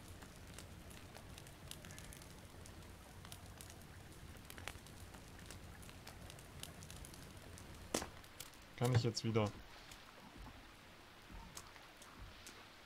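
Steady, soft rain patters throughout a forest scene in the survival video game The Forest, accompanied by a crackling fire, a brief burst of louder clatter midway, and a person talking.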